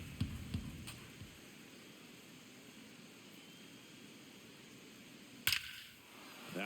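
A baseball smacks off the outfield wall in MLB The Show during a Blue Jays vs Rays game: one sharp, loud bang stands out against a quiet, hissy stadium bed, with a few softer knocks earlier.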